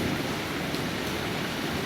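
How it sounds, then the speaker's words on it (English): Heavy rain falls against hurricane roll-up screens as a dense, constant broadband hiss and patter, loud and close with no pauses. "So it's raining really hard"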